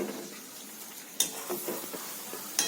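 Tamarind pulusu with green chillies and onions simmers in a pot, a soft bubbling sizzle with occasional stirring scrapes and clinks, close and steady throughout.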